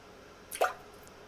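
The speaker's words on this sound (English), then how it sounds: "Drip, drip. Wherever they were falling, wherever they were coming from, the drops just continued to trickle out." A single water drop falls with a short, clear plop, close and isolated against a quiet, faintly hissing background.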